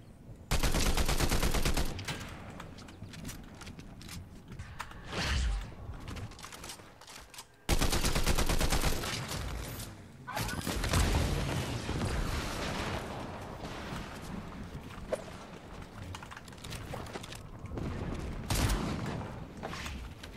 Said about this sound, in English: I love when my gun just shoots when I'm not even pressing shoot